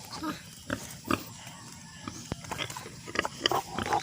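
Pigs in a pen, a newly farrowed sow with her four piglets, giving scattered short grunts and snuffles at close range, with a voice talking faintly in the background.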